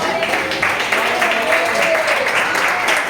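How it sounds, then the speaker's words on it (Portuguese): A Pentecostal church congregation in Maceió applauds together in a dense, continuous round of clapping with a voice calling out over it. "Dê uma salva de palmas para essa palavra."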